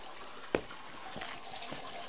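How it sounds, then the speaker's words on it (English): Creek water on Vancouver Island runs into a small cavern and drains underground, making a steady, soft rushing wash close by with one sharp knock partway through. "The water actually runs into a cavern and it goes underground here."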